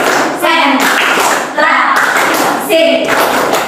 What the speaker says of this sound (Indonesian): kita tepuk konsentrasi dulu ya biar semuanya lebih konsentrasi